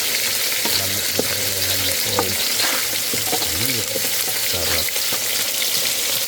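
Garlic frying in a hot pan, a close crackling sizzle running underneath scattered low background noises and faint, indistinct voices.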